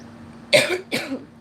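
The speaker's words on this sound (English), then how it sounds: "I'm about to have a coughing fit." Two short, harsh coughs close to the microphone, one right after the other, in an otherwise quiet room.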